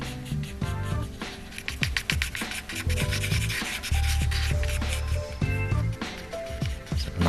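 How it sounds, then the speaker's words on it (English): Charcoal scratching and rubbing across a rough, scratchy drawing surface, a dense continuous scraping with rapid rhythmic strokes, close and fairly loud, with a tonal musical bed underneath. "It's a nice scratchy surface, this is brilliant. Takes the charcoal brilliantly."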